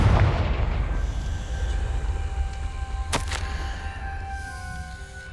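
An explosive Confringo spell blast in Hogwarts Legacy opens loudly with a deep rumbling burst that slowly decays, followed by a sharp crack midway and lingering tonal ringing as the sound fades.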